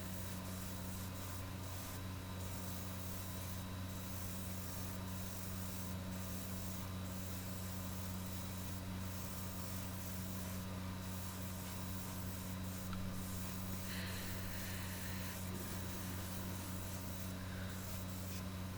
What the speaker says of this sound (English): we're going to keep on spraying all over, all the angles